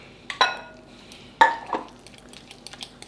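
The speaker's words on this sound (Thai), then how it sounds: "ใส่ไปทีละน้อยครับ แล้วก็คนไปเรื่อย ๆ ครับ" Spoon scraping and clinking in a pot of mashed potatoes as milk is added a little at a time, a few distinct metallic knocks followed by softer stirring scrapes, close and alone.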